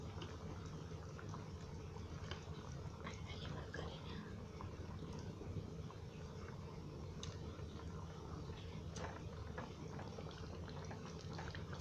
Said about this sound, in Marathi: आता एकदम मस्त कढी यायला देते